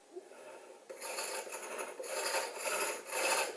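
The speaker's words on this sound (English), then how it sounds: "Abrasive slurry is applied on the copper tool, which will effectively turn it into a grinding wheel." A copper tool charged with abrasive slurry grinds a gem on a bow-driven lathe, making a faint, gritty rasping that starts after a brief pause and pulses back and forth in a steady rhythm.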